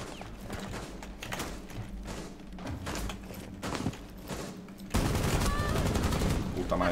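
Rapid bursts of machine gun fire ring out in a Rainbow Six Siege match, with repeated sharp shots and thuds, growing louder and denser in the final seconds.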